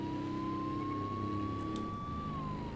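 A police car siren in a racing video game sounds as a steady, slowly rising electronic tone held over a constant engine drone, loud and unbroken.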